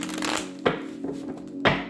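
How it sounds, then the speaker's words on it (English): A few soft riffles and slaps of tarot cards being shuffled by hand, with two sharper snaps as the deck is squared, close and quiet. "one last shuffle"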